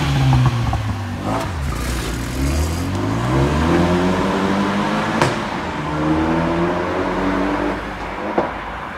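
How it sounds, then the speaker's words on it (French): Renault Mégane RS with an Akrapovic exhaust starts up and revs repeatedly, the engine note rising and falling in sweeping pulls with a somewhat muffled tone, loud and close, nobody speaking. "Vous allez entendre maintenant le bruit de départ de la Mégane RS avec l'échappement Akrapovic."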